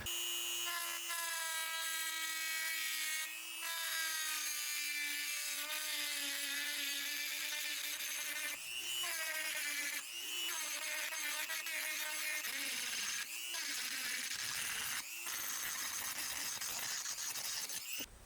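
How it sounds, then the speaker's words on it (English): A metal inline hydraulic handbrake part for an E46 drift wagon is trimmed with a grinder, giving a loud, continuous high-pitched whine with brief dips and pitch shifts, nearby and alone without talk. "I grinded a little more off."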